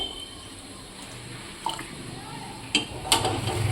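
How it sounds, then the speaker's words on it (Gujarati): Water is poured into simmering dal during dal dhokali cooking; a few short splashes and pours come up close under a soft kitchen background. "હજી પાણી નાખીશું આપણે"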